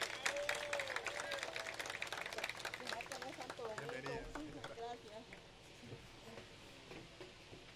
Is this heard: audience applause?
yes